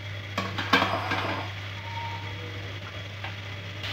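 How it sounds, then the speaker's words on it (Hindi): Potatoes fry in a pan for aloo palak, giving a soft, steady sizzle, a few clattering stirs near the start and a constant low hum underneath. "आलू डाला और इसको भून रहे हैं"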